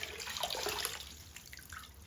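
Gloves being washed by hand in a basin of dirty water, with steady sloshing, splashing and dripping close up for about two seconds, no voices.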